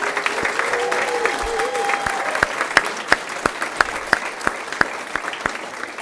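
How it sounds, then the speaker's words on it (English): A school board meeting audience applauds young people, broad crowd clapping with a few sharp, distinct claps punctuating it and a brief voice early on, continuing steadily to the end. "let's give one big round of applause to these young people"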